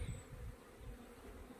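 Honey bees buzz around hives at an apiary on an April day, a faint continuous low hum of insects near the microphone, without any speech.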